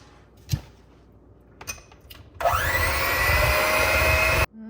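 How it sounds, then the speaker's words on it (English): An electric mixer mixing marble bundt cake batter, a few small clicks and knocks, then the motor starting up and whirring steadily and loudly for about two seconds before cutting off. "Let's use the mixer."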